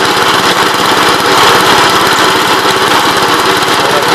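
A 1970 Gravely C8 walk-behind tractor engine runs steadily up close, with a loud, buzzing, even drone and no pauses.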